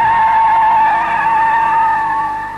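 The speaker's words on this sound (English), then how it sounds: "Now, full power, second gear, my foot absolute to the floor, and absolutely no oversteer." A car driven flat out in second gear with the throttle floored gives a loud, sustained high-pitched tone that holds steady for a few seconds, then eases off slightly at the end.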